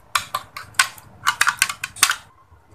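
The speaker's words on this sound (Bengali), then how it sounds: "এখন আমি একটু চামচের সাহায্যে এটাকে ভালো করে নেড়ে মিশিয়ে নেব।" Metal spoon clinking fast and loud against a bowl while beating egg with salt and pepper, giving bursts of sharp scraping taps in uneven clusters, close up, no talk.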